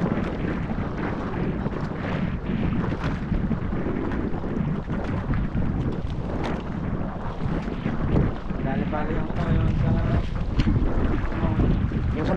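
A motor boat's engine rumbles continuously on open water, heavily buffeted by wind against the microphone, while people talk faintly in the background.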